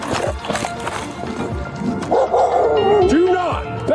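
A loose dog barks and whines during a police encounter after shots were fired, with sharp barks and rising yelps amid loud outdoor commotion and people talking.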